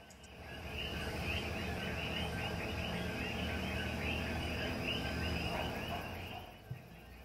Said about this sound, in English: That is a little frog called El Coqui, and it's everywhere in Puerto Rico, and it makes that lovely singing sound